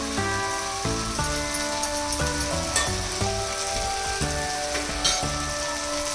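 Butter sizzles in a pan with softened onion and tomato for pav bhaji, a continuous close frying crackle mixed with a few stirring sounds, while steady tonal music plays underneath.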